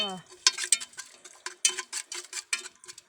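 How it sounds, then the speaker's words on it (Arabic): Food fries in a pot over an outdoor wood fire, giving close, irregular crackling ticks and sizzling pops scattered across the whole stretch, after a brief voice at the start. "وغادي ديرهم يتقلاو"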